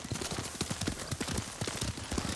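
Horse hooves clip-clop steadily in Ghost of Tsushima, a quick, even rhythm of close, distinct hoof strikes with a faint breathy background throughout.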